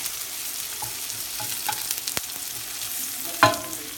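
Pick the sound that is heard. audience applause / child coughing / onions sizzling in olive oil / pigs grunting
onions sizzling in olive oil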